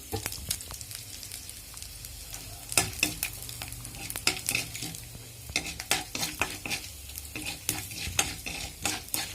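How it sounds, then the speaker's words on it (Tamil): Mustard seeds fry for a tempering in a pan over medium heat, making a soft steady sizzle broken by frequent light taps and scrapes of a spoon stirring, fairly quiet and close. "இந்த தாளிப்பெல்லாம் மிதமான தீயில் செய்யுங்க இல்லைன்னா கடுகு கருகி போயிடும்"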